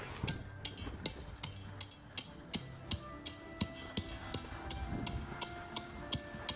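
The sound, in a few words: raking and tamping gravel for a flagstone patio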